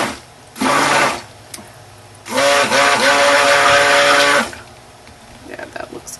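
Stick blender whirring in two bursts, a short one then a longer run of about two seconds, mixing colored cold process soap batter for a lilies and lilac floral soap, close and loud with quiet pauses between.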